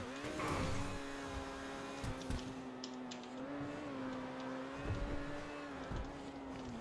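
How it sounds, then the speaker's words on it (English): Overflod Entity MT supercar engine in GTA, a steady high-pitched waspish drone with harmonic whine that rises and falls slightly with throttle, heard alone and fairly close throughout. "The engine noise is pretty unique. Listen to it."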